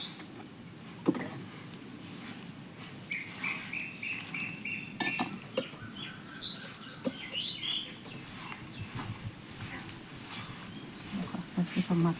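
Gritty scraping and patting as cement and sand are mixed slowly by hand, close and uneven, with someone speaking softly over it at times.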